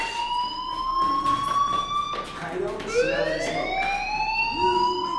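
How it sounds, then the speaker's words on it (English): A steady electronic fire alarm tone in the video game Life Is Strange, with stacked harmonics, sounds continuously, its pitch wavering and bending, with faint background noise throughout. "do you hear that fire alarm?"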